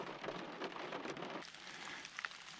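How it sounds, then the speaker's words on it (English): Heavy rain pours through Missouri woods in spring, a dense, steady hiss of drops on leaves and ground, close and continuous, easing slightly partway through with a few louder nearby drips. "if it's raining this hard"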